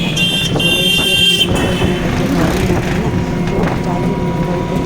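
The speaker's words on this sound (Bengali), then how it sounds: "পুরো এরোপ্লেনের মতন যাচ্ছে টোটো" A small electric rickshaw (toto) rattles and whirs steadily along a road near a station, with a couple of short horn toots near the start.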